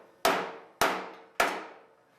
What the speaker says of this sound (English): take a body hammer, and you can tap the metal.